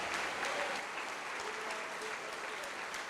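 Applause from a church congregation honoring Jesus during a worship service, a dense, steady wash of clapping that holds at an even level for the whole stretch, with no voice over it.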